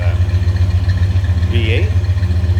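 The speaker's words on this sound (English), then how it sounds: "A little bit of rumble coming out of that" A 1970 Cadillac DeVille convertible's V8 idles with a steady low rumble, close and continuous, with a brief faint chirp partway through.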